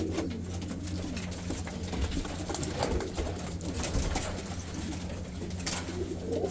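Racing pigeons coo softly and repeatedly in a loft, their low rolling calls layered over a steady background hum.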